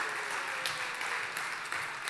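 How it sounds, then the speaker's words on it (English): A church congregation applauds at a rooftop baby dedication service, a soft, steady patter of many hands clapping that sounds somewhat distant and quiet. "give him a round of applause"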